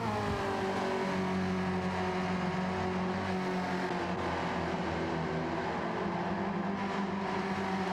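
Race cars accelerating in Gran Turismo 7 during an online league race, a steady dense engine roar with layered whine holding throughout, with no talk over it.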